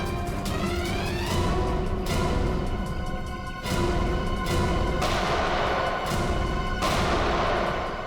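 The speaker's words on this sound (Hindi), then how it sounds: "वहां से चल रही है गोलियां।" Gunfire in a CID television drama scene: a string of sharp, loud shots and booms at uneven intervals, heard close over a dense, rumbling soundtrack.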